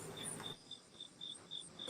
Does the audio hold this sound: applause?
no